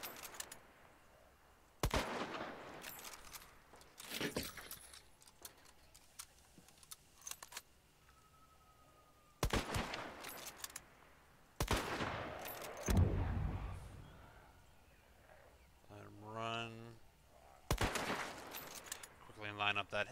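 Gunfire in a hard-difficulty video game comes as sharp bursts of rapid shots and clattering impacts, loud and up close, with a voice talking between and over the volleys.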